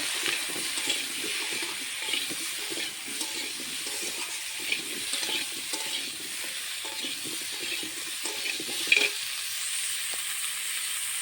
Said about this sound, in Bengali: কপির মধ্যে স্বাদ মতো নুন, একটু হলুদ গুঁড়ো দিয়ে ভালো করে ভেজে নেব।